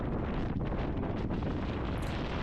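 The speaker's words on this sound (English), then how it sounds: "it's a little bit windy out there" Strong blizzard wind roars continuously and loudly against the microphone, a dense, unbroken rushing buffet with slight surges and no voices.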